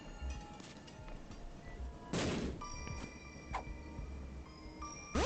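A bomb blows up a donation box in The Binding of Isaac, a single booming blast with a short decay, then small game clinks and chimes over a faint steady background, with no talk.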